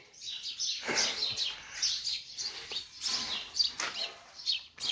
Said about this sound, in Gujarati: બેકગ્રાઉન્ડમાં તમે પક્ષીનો અવાજ સાંભળતા હશો ને